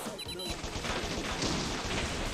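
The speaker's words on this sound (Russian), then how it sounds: "И опять взрывает землю." Explosions blow up the ground in the video game Bot Vice, a rapid rough series of close, loud bursts and crashes following quick electronic chirps.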